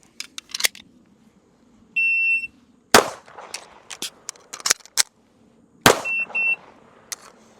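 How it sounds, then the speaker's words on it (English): An electronic timer gives short, high-pitched beeps in brief pairs, separated by sharp clacks and rustling handling noises in a quiet room. "Why is it still beeping?"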